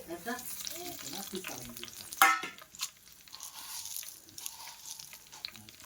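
Dry red chillies fry in hot oil, sizzling and crackling softly, with a sharp pop partway through, while a voice talks briefly at the start.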